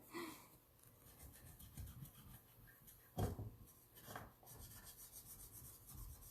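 A sleeve rubs over a transfer on a surface to burnish it, giving quiet close scratchy strokes in an uneven rhythm with one sharper scrape partway through.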